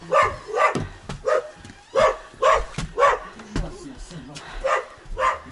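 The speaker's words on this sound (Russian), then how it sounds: "Сколько ходит, что лает" A dog barks repeatedly outdoors at a rural village home, sharp close woofs in an uneven rhythm of about a dozen barks with a few yips.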